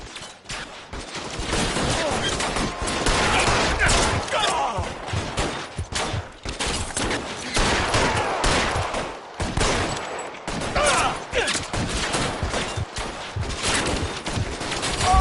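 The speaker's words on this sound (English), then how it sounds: "Bullets start flying" Heavy gunfire erupts in an L.A. Noire shootout, with dense rapid volleys and bursts of shots running almost continuously and loudly throughout, and voices occasionally heard beneath the firing.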